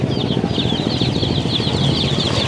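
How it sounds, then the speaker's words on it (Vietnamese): Baby chicks for sale at a rural village market stall in Hau Giang, Vietnam, chirp continuously in a dense, shrill chorus, close and loud with no talking. "Đây có cô bán gà con nè."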